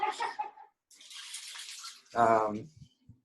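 A shower in a house bathroom runs with strong water pressure, heard as short bursts of hissing spray broken by brief pauses, followed by a voice speaking close by.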